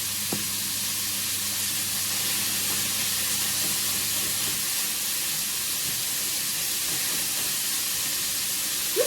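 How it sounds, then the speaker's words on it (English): Chili garlic paste frying in hot oil in a wok over medium heat gives a steady, loud, unbroken sizzle and hiss throughout, with a couple of faint clicks and no voices. "Heat a little oil in a wok over medium heat and fry the chili garlic paste for 10 seconds."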